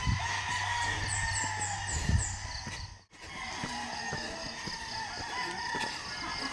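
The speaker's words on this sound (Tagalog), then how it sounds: "Nagtugtugaok na ang mga manok." Roosters crowing in the early morning, several drawn-out calls from birds at a moderate distance over a steady low background hum, with no talk.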